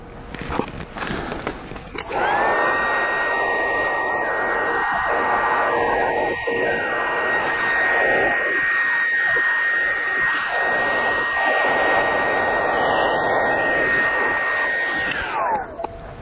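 A heat gun blows steadily while shrinking heat shrink tubing over the shielding of a high-voltage EV cable connection, a loud continuous whooshing hum starting after about two seconds and running unbroken to the end with a faint whine.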